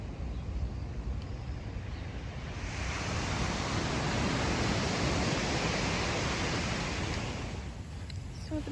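Ocean waves wash steadily onto a coarse-sand, partly rocky beach at Dreams Vallarta Bay Resort in a continuous broad rush that swells louder in the middle, with some wind over the microphone.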